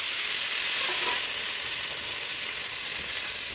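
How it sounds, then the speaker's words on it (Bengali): Yardlong beans hit a hot wok and fry with a steady, loud, even sizzle that holds throughout, no voices over it. "এই বরবটিগুলো কড়াই দিয়ে দিচ্ছি"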